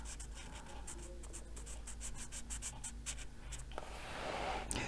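Pens scratching across paper while coloring a Little Witches color-by-number book, a soft steady series of short rhythmic strokes that stays quiet and close, ending with a louder rustle.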